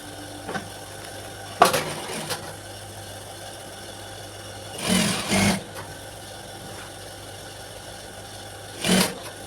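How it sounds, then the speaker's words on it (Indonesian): Sewing machine stitching the left pocket of a high-school skirt, a low steady motor hum with several short bursts of stitching running in quick rattling runs, close by. "kita jahit sesuai dengan garisnya tadi"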